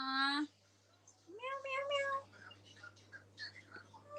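A cat meows several times close by, a long clear cry followed by shorter, wavering calls, with a low steady hum in the background.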